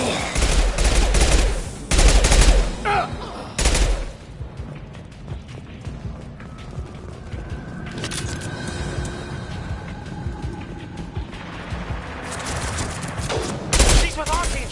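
Bursts of gunfire from the video game Mass Effect 2, loud rapid volleys at the start and again near the end, with quieter mechanical game sounds and some voices in between.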